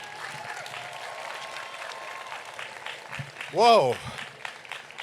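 Audience applause at the 2025 Guttman Community College commencement, a steady outdoor-sounding wash of clapping for the graduates that carries on for several seconds before a person's exclamation rises briefly above it.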